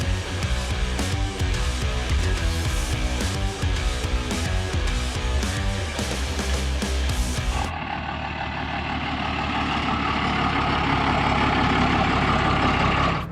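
A heavily modified Dodge RAM 2500 diesel pickup rated at 800 horsepower runs loud and close, its rough tractor-like clatter continuous and dense, changing to a smoother, lighter drone partway through.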